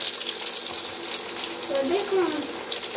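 Potato samosas frying in very hot oil, giving a steady dense hiss and crackle with soft bubbling, close and continuous throughout without any talking.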